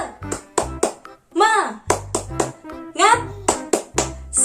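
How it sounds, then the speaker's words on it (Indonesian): A group of children claps in a quick rhythmic pattern, with short bursts of chanting voices between the claps, in a primary school classroom clapping chant. "Tepuk semangat."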